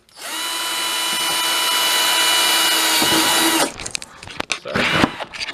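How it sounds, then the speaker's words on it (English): A power drill whines steadily as it bores a hole through a Kymco 50cc scooter exhaust, the motor ramping up to a loud even pitch for about three seconds before stopping, followed by clattering handling noises. "and then drill it."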